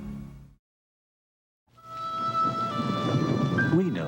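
Thunder and falling rain from a radio advertisement sound effect: after a short silence, a rising rumble swells into steady rain noise, with a tonal musical layer running over it.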